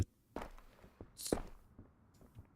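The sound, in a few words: footsteps in video game Road to Vostok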